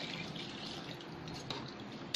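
Water poured into a cooking pot of basmati rice, a soft continuous splashing and trickle at low volume with no voices.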